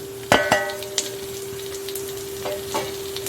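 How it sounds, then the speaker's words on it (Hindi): Onion, ginger, garlic and whole spices sizzle steadily in a hot pan for Punjabi chicken, with a few sharp clinks of a utensil against metal and a faint tonal hum in the background. "इसको अच्छे से भूनना है सबको।"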